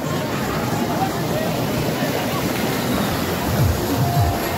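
Water rushing over a waterfall at a crowded stopping spot, a steady broadband roar filling the whole stretch, with voices of people faintly mixed in behind it.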